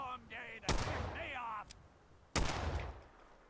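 Two loud gunshots ring out in Fallout 4 survival mode during a fight with Mirelurks, spaced more than a second apart, each a sharp crack with a decaying tail, with a brief voice-like tone before the first.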